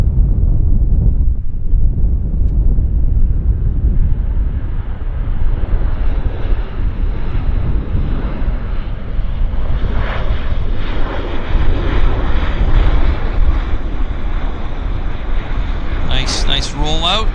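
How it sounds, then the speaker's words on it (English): Q400 turboprop airliner landing at Vancouver Airport, a steady roaring engine and rushing wind noise that fills the whole stretch, with a brief higher whine near the end; someone talks over it. "here's our Q400 landing"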